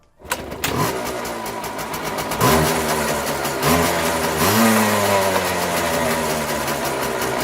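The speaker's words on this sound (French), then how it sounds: "on va démarrer la moto quelques secondes" A Derbi motorcycle engine cranks and fires up, then runs at a rough idle with a couple of rising revs, loud and close.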